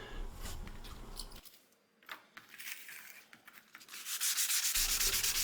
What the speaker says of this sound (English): Here I am sanding off the varnish and trying to get some of the backing off of this veneer